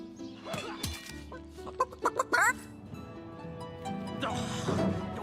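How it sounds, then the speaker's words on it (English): A chicken clucks in the video game Divinity: Original Sin, a quick series of sharp clucks over soft game ambience and background music. "Why did you let my chicken escape?"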